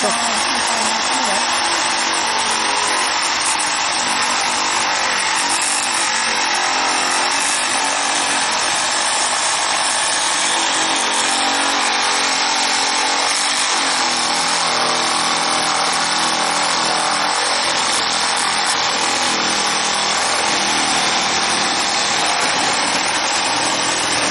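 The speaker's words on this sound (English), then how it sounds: "This post is damn near rotted out. So I'll use my Reciprocating." A battery-powered reciprocating saw cuts into a rotted wooden fence post. It makes a loud, steady, high-pitched mechanical whine that runs without a break.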